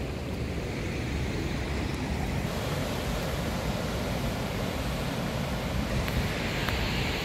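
Steady wind rushing over a microphone on a high spot by a river in Canada, a constant low roar lasting the whole stretch with no voices.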